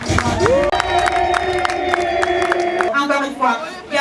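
An audience at an 80th birthday celebration cheers and claps for a woman, with loud shouts and sustained vocal cheering over clapping, and voices calling out across the room.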